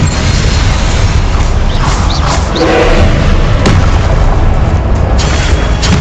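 Confringo spell blasts in Hogwarts Legacy combat, heavy booming explosions layered over a dense, loud, continuous battle din with a few sharper impacts standing out.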